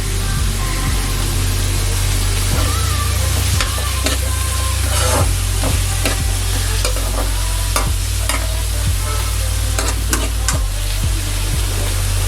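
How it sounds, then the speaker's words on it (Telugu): An onion mixture with curry leaves sizzles steadily in a pan, with a constant frying hiss and repeated sharp scrapes and clinks of a spoon stirring. "ఈ మిశ్రమం దూరగా వేగేంత వరకు మనం వేయించాలి"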